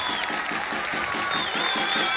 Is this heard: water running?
no